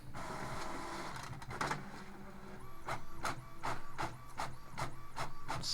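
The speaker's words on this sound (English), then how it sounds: "Excuse the printer." A printer running nearby, feeding and printing with regular mechanical whirs and repeated sliding passes of the print head, steady and moderately quiet with no talk over it.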